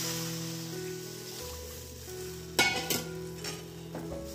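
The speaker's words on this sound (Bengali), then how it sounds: "এই দেখো এখন আমি জলটা দিয়ে দিচ্ছি।" Water poured into a pot of simmering dal (lentils), a steady low hum of cooking giving way to a sudden close splash and bubbling gush that settles into a softer sizzle.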